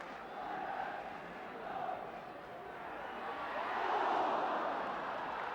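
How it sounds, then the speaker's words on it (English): A large football crowd roars encouragement for Wolves at a stadium match, a broad, sustained wash of voices that swells toward the end, with no distinct talk on top. "The crowd giving Wolves the encouragement they need, perhaps scenting another revival."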